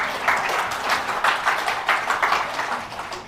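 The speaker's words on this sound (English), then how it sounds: "Clap longer lah." Audience clapping at a talk, a brief patter of hands that swells and dips unevenly in loose bursts over a few seconds.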